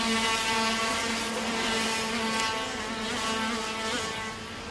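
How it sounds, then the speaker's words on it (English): A 50-horsepower Maxter-engined KZ2 racing kart on a kart circuit makes a steady, loud, high-pitched engine buzz as it drops gears out of a hairpin and accelerates hard. "drops down a few gears, now accelerates hard, 50 horsepower out of that Maxter engine"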